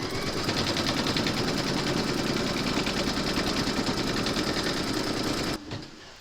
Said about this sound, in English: Making sure that you got your thread colour for the satin stitch border around the head loaded into your machine